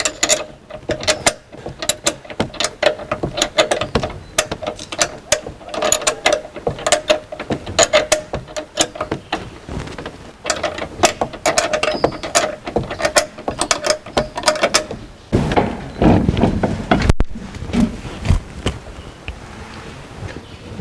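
A ratcheting hand tool works loose wheel suspension bolts, loud rapid clicking bursts repeating in quick rhythm, then a rougher rumbling scrape toward the end.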